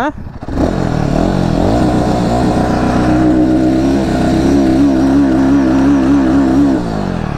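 A Royal Enfield Himalayan 450 motorcycle with a liquid-cooled engine starts up and idles loudly and close by, its steady throbbing engine note rising briefly as the throttle is blipped before settling back.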